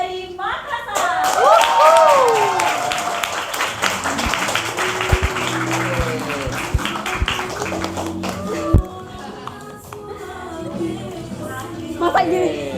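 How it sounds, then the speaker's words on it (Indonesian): An audience welcomes a contestant with applause, rhythmic claps and taps rising among lively crowd chatter, whoops and voices talking over it, fairly loud and close. "sambut dengan tepuk tangan yang paling meriah"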